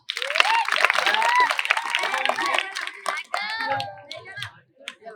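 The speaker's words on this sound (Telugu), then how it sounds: "గట్టిగా ఒకసారి క్లాప్స్." Schoolboys at a government boys' school science show in Sangareddy clap together in a brisk, crowded burst of applause that thins out into scattered claps, with children's voices mixed in.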